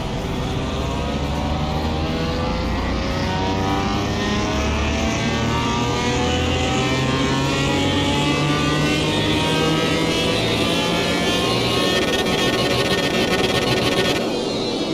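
A car engine revs hard on a dyno in Car Mechanic Simulator 2021, a loud continuous climbing drone with rising harmonics, no voices over it.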